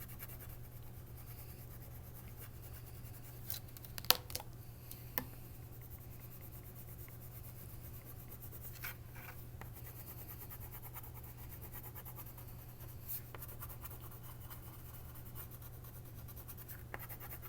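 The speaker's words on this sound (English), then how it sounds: "A lot of coloring right now." Red and green crayons colouring on paper, faint scratchy strokes in irregular bursts with a few sharper taps, set against a constant low electrical hum in a quiet room.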